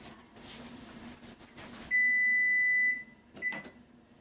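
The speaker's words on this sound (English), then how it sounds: "This timer is just about to go off." Kitchen timer going off while English muffin bread bakes, one steady electronic beep held for about a second, then a short chirp, over quiet kitchen background.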